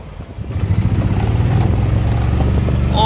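Brand-new 2020 EZGO Valor gas golf cart with a fuel-injected 13.5 hp Kawasaki engine pulls away, its close, loud engine rising into a steady pulsing drone with rattly chassis clatter, no talking.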